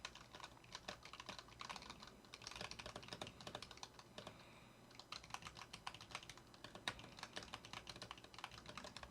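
Fast, steady typing on a Razer keyboard with linear black switches, a dense stream of soft keystrokes picked up quietly by a nearby microphone, with a brief pause midway and no talking.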